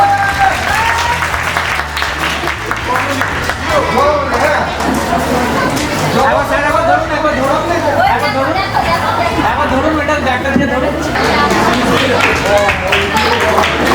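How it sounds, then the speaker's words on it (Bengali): Sustained loud applause from an audience at a student scholarship award ceremony in the Sundarbans, dense clapping mixed with crowd chatter throughout. "একটা জোরে হাততালি হয়ে যায় সবার বন্ধুদের জন্য।"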